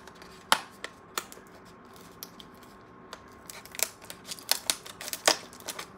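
Pandora jewelry care kit box being opened, with a series of sharp paper and cardboard clicks, snaps and rustles, sparse at first and then coming faster and closer together toward the end.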